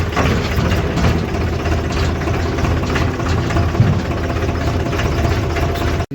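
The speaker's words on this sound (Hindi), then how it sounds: "ठीक से अब चल रहे हैं ट्रैक्टर लेकर खेत में।" A tractor engine runs steadily on the way to a farm field in rural Rajasthan, a loud, continuous low rumble with constant vibration and no pauses.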